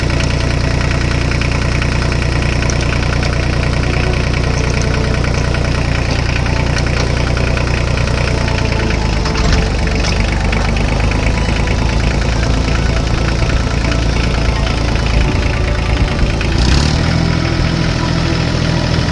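Tractor engine running in a Hindi cartoon, a loud, steady low chugging drone with a knocking idle, continuous throughout with a slight shift in pitch near the end, no talk over it.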